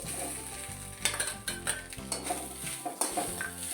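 Poppy seeds and grated fresh coconut are sautéed in a pan: a soft, steady sizzle broken by close, rhythmic scrapes and clinks of a spoon against the metal, with no speech.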